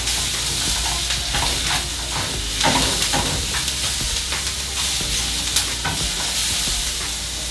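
Mushrooms and bacon sizzle and hiss in a frying pan, seasoned with salt and pepper, while a utensil stirs and scrapes through them in irregular clicks over the steady frying crackle.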